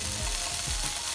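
Chicken being cooked for fettuccine Alfredo fries in a pan with a steady, close hiss and crackle of sizzling oil, joined by a few low scraping stirs.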